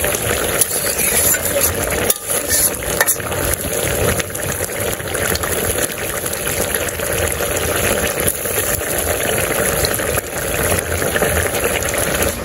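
Fish slides into a pan of simmering curry, and a dense, continuous bubbling and sizzle fills the whole stretch, close and fairly loud with small crackles and no clear talking.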